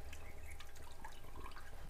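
Tamarind juice pouring into a large pot of fish curry, a soft steady trickle and splashing of liquid, quiet and close, with no voices.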